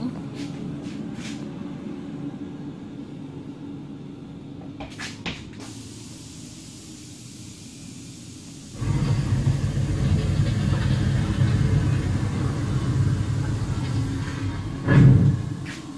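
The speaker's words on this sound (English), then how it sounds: "deep rumbling bass, pneumatic activated doors" Deep rumbling bass swells up at a temple-themed attraction, followed by a brief hiss of pneumatic doors opening, with faint clicks and mechanical knocks earlier and a sharp burst of air near the end.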